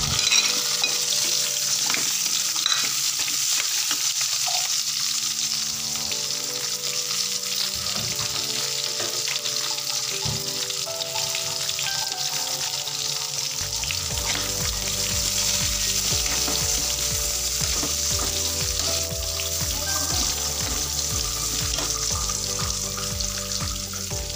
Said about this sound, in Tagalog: So itong talong naman po yung ating sunod na i-fried ng konti,